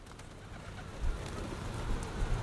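Pigeons coo at the 16th Street BART station in San Francisco, with low, soft throaty calls rising out of a steady background hum of the station.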